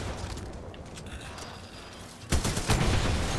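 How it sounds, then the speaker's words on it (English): Battle rifle fire in the video game Titanfall 2: an abrupt loud burst of shots arrives near the end, after a stretch of dense, busy combat noise with scattered distant gunfire. "Oh, it's a battle rifle."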